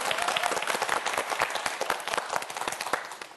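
A studio audience on a TV science quiz show breaks into brisk, lively clapping, many sharp hand claps close together that taper off toward the end.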